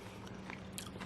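A quick, quiet crunch as teeth bite into a crisp fermented pickled garlic scape, one short close snap of chewing.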